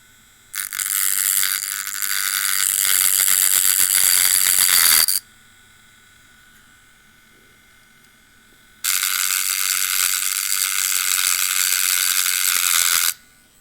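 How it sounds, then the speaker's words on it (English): A Dremel rotary tool with a worn stone bit grinds rounded axles on a Matchbox Foden sugar container truck. Two loud, close, shrill bursts of about four seconds each are split by a quiet pause. "So now with the Dremel and stone bit's getting a little worn out, and the rounded axles again."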